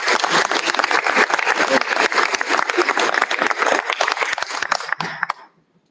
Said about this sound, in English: Please help me recognize our new chapter Green Hands with a round of applause.